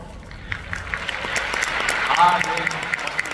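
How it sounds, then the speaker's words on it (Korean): Audience applause at a spring Amway convention in a large hall, moderate and scattered clapping that builds slightly and carries on steadily. "전혀 박수를 이렇게 예상하지 못했는데 생각보다 조금 작긴 한데 괜찮아요"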